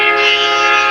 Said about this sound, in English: that was the sound of a train